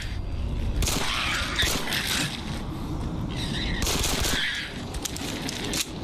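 An upgraded Glock pistol fires at molerats in Fallout 4, several loud close bursts of shots spaced a second or two apart, mixed with mechanical clatter.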